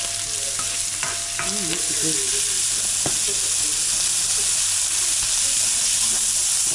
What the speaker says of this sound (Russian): теперь обжариваем немножко грибочки